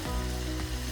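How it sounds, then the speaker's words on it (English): Tomatoes and spices fry in a pot for an aloo gosht curry, giving a steady, dense sizzle that holds close and loud for a brief moment with no voices. "that's frying all the tomatoes and the spices"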